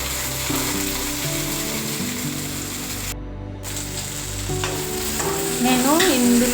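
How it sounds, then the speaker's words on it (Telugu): Green chillies frying in about two tablespoons of hot oil for a mint chutney, a steady sizzle with scraping stirs throughout and a soft melodic tune playing underneath, no voices. "నేను ఇందులో అన్నీ ఆయిల్ వేసి వేపుతున్నా"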